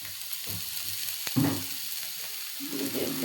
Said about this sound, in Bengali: এদিকে কাঁকরোল ভাজা হচ্ছে